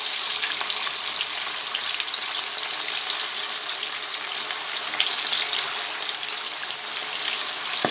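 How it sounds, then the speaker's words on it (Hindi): Chicken pieces deep frying in hot oil, a dense steady sizzle and crackle filling the whole stretch at moderate level, with no voices. "मैं बारी बारी इसमें फ्राई करने के लिए डालती जाऊंगी।"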